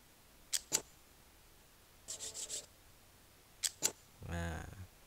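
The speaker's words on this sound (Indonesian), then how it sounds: "ini adalah suara dari obeng ya," A screwdriver recorded as a music sample, scraped and clicked by hand: short bursts of scratchy rasping, two quick clicks, a brief stuttering scrape, two more clicks, then a longer grinding rub, fairly close with quiet pauses between.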